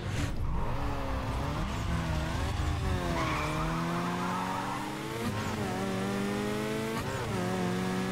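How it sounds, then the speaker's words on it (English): A Mazda RX-7 in the racing game Need for Speed Carbon revs and shifts through gears while its tires squeal and skid, a steady loud mix of rising engine tones and screeching rubber without speech. "I really like the sound of the RX-7, actually."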